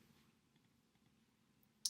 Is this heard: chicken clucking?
no